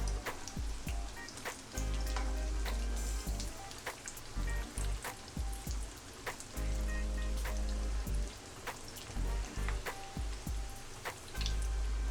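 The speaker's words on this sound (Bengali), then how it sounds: "এই আঁচেই আস্তে আস্তে করে ভেজে নেব, সুন্দরভাবে ভাজবো" Egg fingers frying slowly in oil over low heat make a dense, rain-like crackle of fine bubbling pops, steady and close, broken by a few utensil knocks, with no voices.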